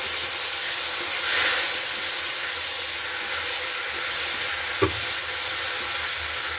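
A paste of ground ginger, chili and cumin sizzles steadily in a hot pan, a continuous bright hiss with a soft stirring scrape and one sharp clack of a utensil near the end.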